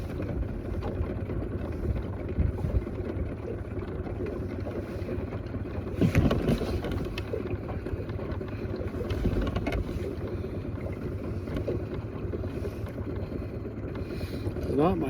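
Wind buffets the microphone during trout fishing from a boat in Utah, a steady, close low rumble with occasional stronger gusts throughout.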